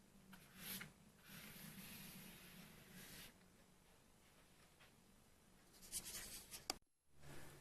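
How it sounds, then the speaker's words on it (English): A flat paintbrush sweeps in soft horizontal strokes across wet watercolour paper, giving quiet, close brushing swishes that come in several bursts with brief pauses between them. "Some sweeping horizontal brush strokes"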